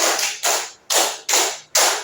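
Group of people clapping in unison during a school positive-culture training session, five sharp loud broadband claps in a steady rhythm with brief pauses between, close and clear with no talking.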